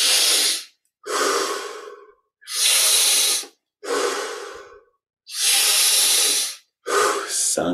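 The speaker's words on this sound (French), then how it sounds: "5 dernières respirations pour saturer en énergie et en oxygène." Deep breathing exercise during yoga meditation: six long, loud, close breaths, alternating forceful rushing inhales and exhales, with short silent gaps between them.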